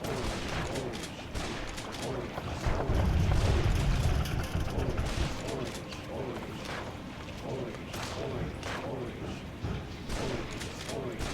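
Gunfire from booming man sticks in the Sam and Max video game, repeated bursts and booms running continuously, heavy in the middle, with voices talking over it.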